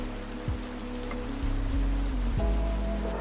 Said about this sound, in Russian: Сегодня в Саппоро дождь, с погодой немного не повезло